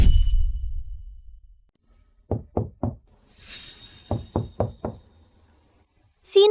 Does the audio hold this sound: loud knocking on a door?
yes